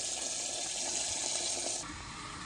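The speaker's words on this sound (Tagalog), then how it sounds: "Tapos, lagyan natin siya ng tubig guys." Water pouring steadily from a tap or hose onto dry pig feed, a close, bright rushing stream that eases off toward the end.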